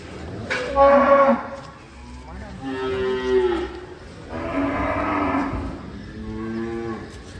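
A young calf on a cattle farm moos repeatedly, with four drawn-out, close, fairly loud calls separated by short pauses.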